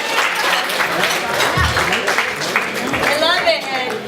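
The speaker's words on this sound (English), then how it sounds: "Round of applause." Audience applause erupts as the father of a group is called onstage, a steady, lively patter of many hands clapping at close range and moderate loudness, continuing throughout.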